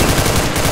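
Gunfire in the video game CS:GO, heard as a loud, dense, continuous burst of rapid shots that fills the whole brief moment, with no talking.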